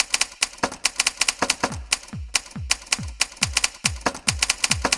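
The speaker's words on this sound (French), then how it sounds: "On commence sur un sample d'une machine à écrire avec ce kick qui vient s'ajouter petit à petit." Sampled typewriter clacks laid over a steady electronic kick drum, with fast rhythmic key strikes and a deep booming thump pulsing underneath, loud and up front with no voices.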